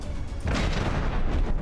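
Cram cannon fire from the From the Depths battle game lands as a heavy, booming artillery impact, a dense loud roar swelling after a brief lead-in and rumbling on without pause.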